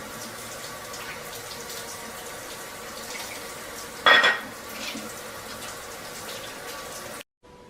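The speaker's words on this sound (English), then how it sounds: "Now I'm going to wash my hands again." Hands are washed under a running kitchen tap, a steady hiss of flowing water throughout with one brief louder splash partway through, close by.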